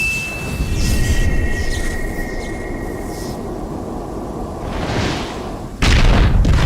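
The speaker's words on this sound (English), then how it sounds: "this is actually an elevator that fell on him" An elevator crashes down in Devil May Cry, a loud rumbling impact with metallic scraping and clanging debris, a sustained roar that swells and ends in a heavy final slam.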